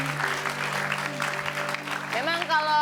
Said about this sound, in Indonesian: Raisa tepuk tangan dong buat Raisa.